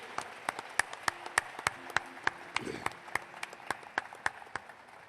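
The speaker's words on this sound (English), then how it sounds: "a big round of applause for all the winners of all the awards this evening" Audience at the IFFI 2016 film festival closing ceremony applauds the award winners, a sparse, distinct clapping from a modest number of hands, steady throughout, with faint voices and a brief murmur in the hall.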